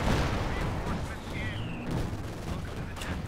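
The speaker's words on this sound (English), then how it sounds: "taking a lot of damage from the anti-tank guns" Anti-tank guns fire repeatedly in a Company of Heroes 2 4v4 battle as Panthers trade blows with tank destroyers, heavy booming shots over a dense rumble of continuous combat noise with a brief whistling shell streak.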